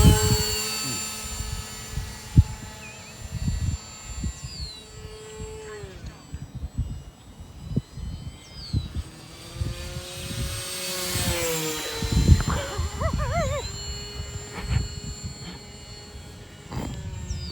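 A Durafly Goblin 820 mm RC racer plane flies overhead, its electric motor whining and shifting pitch as it passes near and far amid wind and outdoor noise.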